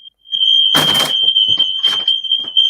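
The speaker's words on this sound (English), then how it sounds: "That's the fire alarm." A smoke or fire alarm sounds indoors as a loud, continuous high-pitched electronic tone that persists throughout, with people talking over it in bursts.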